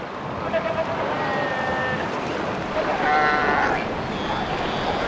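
South American sea lions call from a crowded breeding beach at Punta Norte, scattered barks and bleating cries rising over a constant wash of wind and surf, some near, some farther off.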